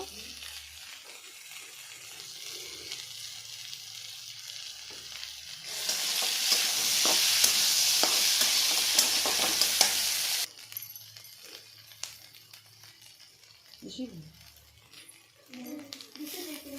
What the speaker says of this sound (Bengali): আমি লবণ হলুদ দেওয়ার পর অল্প ভাজবো।